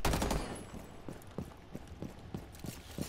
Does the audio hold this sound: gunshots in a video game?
yes